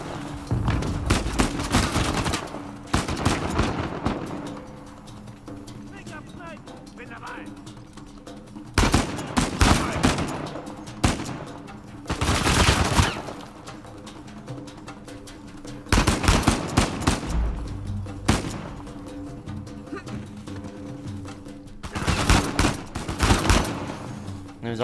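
AK rifle fire in Uncharted 4, loud full-auto bursts repeated in about six clusters with quieter gaps between them.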